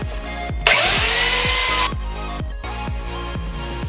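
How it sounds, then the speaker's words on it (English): A belt sander refines the edge of a wooden sword clamped to a workbench, letting out one loud, steady grinding whir for just over a second amid a series of sharp knocks and thumps. "I'm going to take my belt sander and I'm going to refine this edge."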